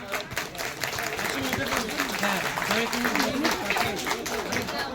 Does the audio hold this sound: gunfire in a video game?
no